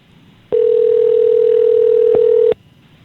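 A single loud, steady telephone tone sounds while a call is placed, holding for about two seconds before cutting off abruptly, with a faint click near the end and no voices.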